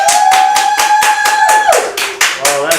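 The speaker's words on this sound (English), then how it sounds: "clap now" A theatre audience at an improvised Broadway-style show claps in a steady, rhythmic unison beat, about four claps per second, while a voice sings a sustained note over the first half.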